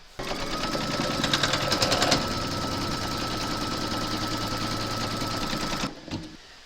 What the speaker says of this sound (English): pop your hoop into your machine and stitch round number 1